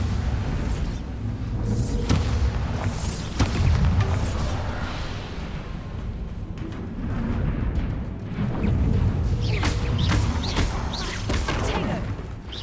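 Bombarda spell blasts in the video game Hogwarts Legacy, heavy booming explosions with crashing impacts and rumbling low-end debris, recurring through a dense, loud battle mix with no voices.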